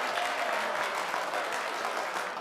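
Casino audience applause in a film comedy scene, a dense, steady wash of clapping that stays loud and even throughout, with no voices standing out.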